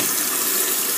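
Water runs from a faucet over hands, a steady close hiss.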